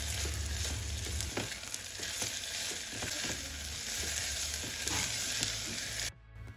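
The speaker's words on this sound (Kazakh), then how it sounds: "Содан соң сәбізді, картопты салып 2-3 минуттай араластыра отыра қуырамыз." Onion, carrot and potato fry in a pot for lentil soup, a loud, steady sizzle broken by repeated scraping and clattering stirring strokes before the sound cuts off abruptly near the end.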